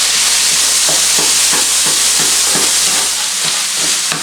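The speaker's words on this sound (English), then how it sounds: "I'm going to break up my meat here a little bit" Ground beef browns in a hot pan for a pizza casserole, a loud dense sizzle under a steady rhythm of spatula chops and scrapes breaking up the meat, close and without talk.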